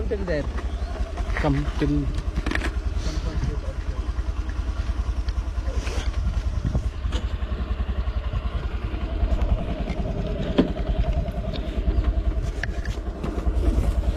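A scooter rides along a hill road in Himachal, near Kasol, its engine giving a steady, close, continuous drone with rumble and some clatter throughout, without letup.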